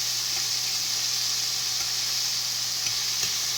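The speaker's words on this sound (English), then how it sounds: "So I'm going to fry that." Steady sizzling of chicken frying in hot peanut oil, a constant crackly hiss with a few faint pops, continuous and moderately quiet.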